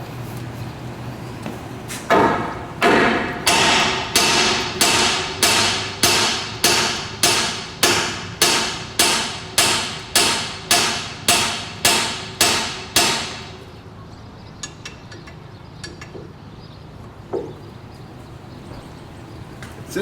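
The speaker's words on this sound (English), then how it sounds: "I'm going to beat on it with a 6-pound sledge and see if it pops out." A 6-pound sledgehammer pounds a steering knuckle on an E350 during a ball joint job, about twenty loud, evenly spaced metallic strikes in a steady rhythm, then stopping to near quiet with a faint clank.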